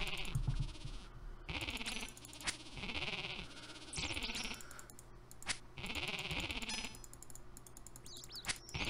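Sheep bleating in the RuneScape video game, several wavering bleats repeating at uneven intervals, fairly faint, with keyboard tapping and clicks in between.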